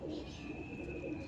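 A violet pigeon gives a soft, brief coo, quiet and close, with faint background hiss and no talk.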